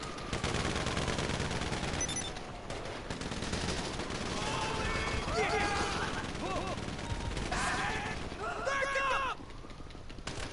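Rapid bursts of automatic gunfire and scattered shots rattle through a Grand Theft Auto online session, dense and continuous with chaotic game effects layered on top, while a player talks over the action.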